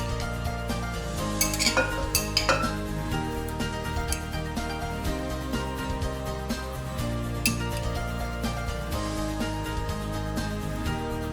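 Cooked braised pork belly, abalone and scallion go into a clay pot with a steady run of clinks, scrapes and knocks from the utensils and the pot. A soft sizzle stays underneath throughout.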